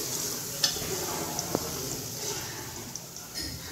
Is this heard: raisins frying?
yes